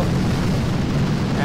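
An artillery barrage in Boom Beach pounds in as a dense, continuous rumble of loud booming explosions, with a voice talking over the roar.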